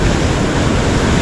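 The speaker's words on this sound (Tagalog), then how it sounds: "yung alon ganun pa rin, malakas pa rin." Loud, constant roar of strong ocean surf and wind on an Australian beach fills the short stretch, a dense wash of crashing water noise with no voices.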